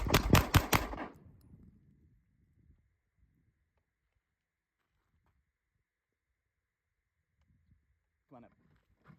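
A quick string of five loud, close pistol shots from a handgun fitted with a Parker Mountain Machine Ultra Comp and DPM recoil reduction system, fired at a target at five yards, followed by near silence and a brief voice.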